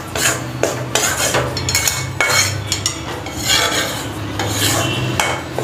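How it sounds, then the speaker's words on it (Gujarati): Desi jaggery melting in a metal pan for Gujarati sukhdi is stirred with a spoon, a steady run of loud, close scraping and clinking strokes against the pan in an uneven rhythm, with no talk. "સતત હલાવતા રહીશું અને એને એટલે આપણો ગોળ ઓગળી જાય."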